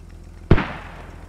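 A single mortar round fires in the game Squad, one sharp close boom with a short decaying tail over a low steady background.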